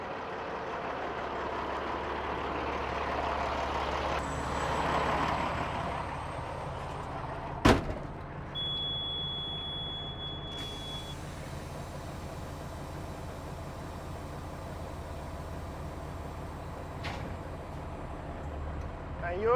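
A semi truck engine idles and rumbles nearby while backing under a trailer, with a sharp metallic clunk as the fifth wheel couples, then a steady drone and a later bang.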